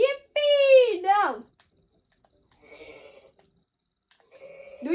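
Synthetic goat bleats from the video game Goat Simulator, one loud wavering cry followed by fainter repeated calls, set against silence, like game sound effects.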